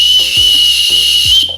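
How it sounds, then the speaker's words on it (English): A safety whistle built into a backpack's sternum strap is blown in one short, shrill, steady blast, loud and close, with no talking. "We have a danger whistle."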